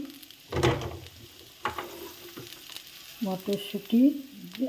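Beans and green peas drop into hot oil and sizzle in a pan, with a sharp burst of frying at first, then stirring scrapes and crackles, and scattered utensil clinks toward the end.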